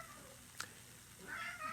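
A house cat meows faintly once near the end against a quiet indoor background, distant and soft.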